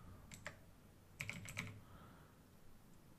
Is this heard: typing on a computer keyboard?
yes